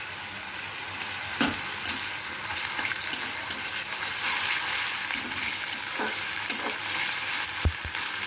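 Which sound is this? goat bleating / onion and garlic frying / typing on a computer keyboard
onion and garlic frying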